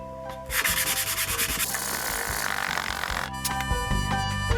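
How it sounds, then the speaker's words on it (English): Sandpaper rubs against a spinning lacewood platter on a wood lathe, a steady close abrasive hiss with rhythmic pulsing over the motor's low hum, alone without talk. "I'm just going to do a tiny bit of sanding"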